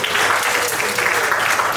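Audience at a science event applauding to welcome a speaker, a loud dense wash of clapping from a crowd, sustained without pause through the short stretch.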